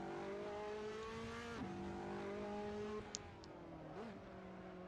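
Race car engine in Assetto Corsa, a steady high whine that climbs with revs, drops sharply at gear shifts and briefly dips mid-corner, heard alone and fairly faint.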